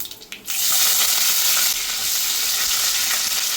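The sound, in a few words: mustard seeds, cumin and dried red chilies sizzling in oil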